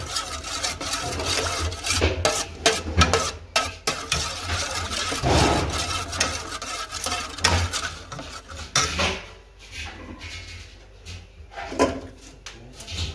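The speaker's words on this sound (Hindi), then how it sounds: "इसको अच्छे से मिक्स करते हैं।" Chicken biryani ingredients with salt are mixed in a bowl, giving repeated scraping and clinking of a utensil against the dish in an irregular rhythm, close and moderately loud, with no one speaking.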